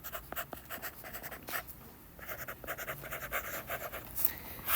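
A marker squeaks and scratches across a board in short repeated strokes during a geometry lesson, fairly close and alone, with brief pauses between the bursts of writing.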